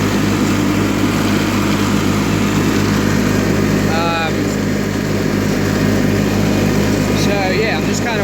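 An old John Deere 316 lawn tractor mows a field, its engine droning steadily and continuously at close range the whole time, with a few faint chirps over the top.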